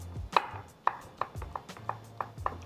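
A knife chops cucumber on a cutting board in about eight crisp, fairly regular strikes, each sharp tap close and distinct in a quiet kitchen.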